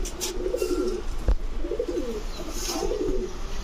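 Several domestic pigeons at a pigeon sellers' stall cooing in repeated low, throaty bursts, fairly close, over a steady background hum with one sharp knock midway and no speech.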